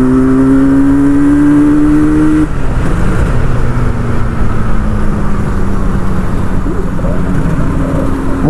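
A 1983 Yamaha RD 350 two-stroke motorcycle is revved close up. The loud exhaust note climbs in pitch, drops sharply, then settles into a throaty, steady drone.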